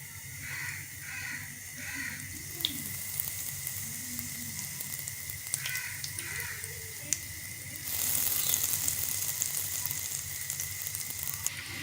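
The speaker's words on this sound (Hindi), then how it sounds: "अब हम इसे फ्राई करने लगे हैं।" Breadcrumb-coated potato chicken balls fry in oil with a soft, steady sizzle and scattered faint crackles, heard fairly quietly with no talking.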